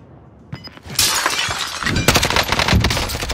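Enemy armor shatters with a loud glassy crash in Call of Duty Warzone, followed by a sustained burst of rapid crackling impacts and gunfire-like bangs.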